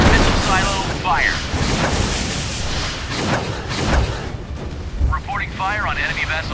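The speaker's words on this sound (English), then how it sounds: "Missile silo fire." A warship fires missiles from its silo in a mobile naval combat game, producing loud, continuous rushing launch roar and booming blasts with rising whooshes, under game voice callouts.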